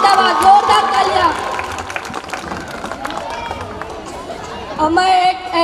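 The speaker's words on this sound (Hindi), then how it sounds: "जोरदार तालियां।" Scattered clapping from the audience at a school mushaira in Urdu and Hindi poetry breaks out under a wash of crowd voices and chatter, moderately loud and uneven.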